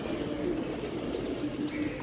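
Low, repeated cooing from a wet pigeon sounds close by under a continuous wash of rain, with a faint chirp now and then.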